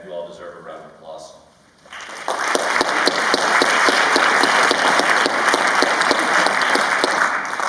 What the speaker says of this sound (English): Tonight is really, really cool, and you all deserve a round of applause.